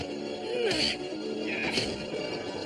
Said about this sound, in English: It's been 10 minutes since I smashed something.